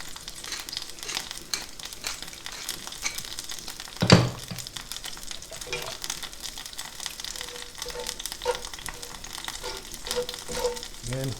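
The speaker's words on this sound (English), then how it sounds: "keep that turkey sausage moving, keep it flipping, get it cooked through evenly" Turkey sausage fries in a pan with a continuous crackling sizzle, broken by scraping and stirring as the pieces are flipped, including one loud clatter near the middle, with no talking.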